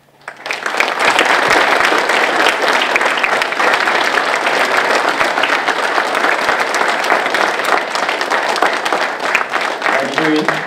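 An audience applauds at a civic anniversary ceremony in a hall in Otrokovice, honoring a new honorary citizen, with dense, steady clapping rising quickly and holding for about ten seconds before tapering.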